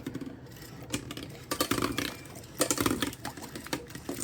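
Fishing line winding onto an Ardent Ignite reel from a cracked spool, a close, steady mechanical whirring with bursts of faster ticking and clicking, no talking.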